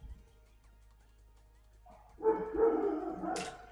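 After a quiet stretch, a dog breaks into a brief run of close yips and barks that fade out toward the end.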